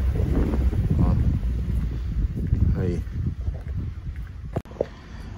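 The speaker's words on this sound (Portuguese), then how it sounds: "Desculpem o vento aí que hoje tá." Strong outdoor wind buffets the microphone with a heavy low rumble that rises and falls, while a person speaks over it.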